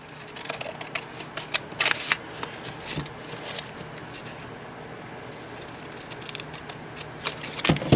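Scissors snip through material during a car footwell repair, giving a string of short, sharp cuts spread irregularly across several seconds, with a couple of louder clicks near the end and no talking.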